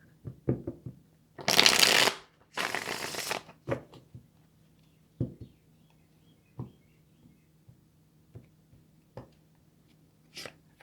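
Tarot cards are shuffled in two quick riffling bursts, then a series of soft, sparse taps and card slaps follow, close and quiet.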